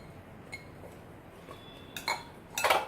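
Pieces of ridge gourd dropped into a pressure cooker already holding onion, heard as a few soft clinks followed by a louder clatter of pieces landing against metal, close by with no talk.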